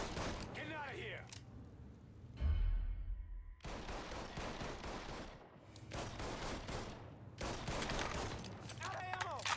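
Bursts of rapid gunfire from the video game Mafia 3 crackle in separate volleys, with a heavy boom near the middle, over game sounds and someone speaking now and then.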